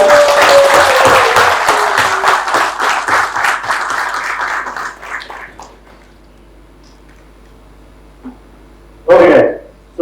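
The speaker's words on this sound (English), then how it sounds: "Rafat and Aishwarya, so big round of applause for them." Audience applause at a corporate sales event in Lonavala, loud rapid clapping from a group that fades out over several seconds, followed by near silence and a brief bump.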